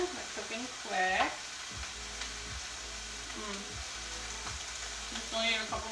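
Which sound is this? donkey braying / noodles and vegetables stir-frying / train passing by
noodles and vegetables stir-frying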